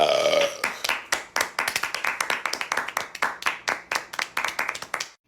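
A short, low burp opens, followed by a few people clapping in a brisk, uneven rhythm that stops abruptly.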